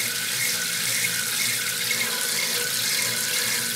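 Water gushing steadily through a small 12 volt water turbine, a continuous close splashing rush like a running tap, with no voices.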